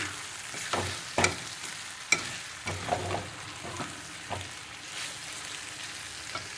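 Chicken with onions and homemade masala frying in a pan on low heat, a soft steady sizzle broken by occasional scraping and stirring knocks of a spoon against the pan.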